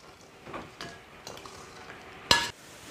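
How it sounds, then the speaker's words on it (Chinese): Spicy soft-shelled turtle being stir-fried in a wok, with a low steady sizzle and scattered scraping stirs, then one sharp loud clatter of the spatula near the end. "再次翻炒均匀就可以关火出锅了"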